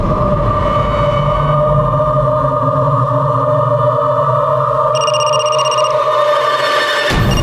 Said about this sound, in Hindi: फोन लगा।